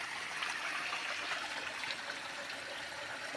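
A stream flowing after monsoon rain, with fields and ponds filled with water: a soft, even rush and trickle of running water, faint and continuous with no voices.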